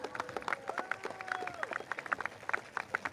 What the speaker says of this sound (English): Can we have another round of applause for the speakers that came up on stage just now?